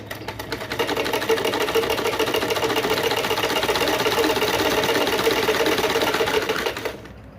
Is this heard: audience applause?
no